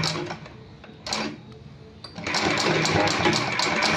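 A sewing machine stitches fabric, turning as it sews: a quieter start gives way to a steady, close, rapid mechanical whir that runs continuously for the last half, with no talking.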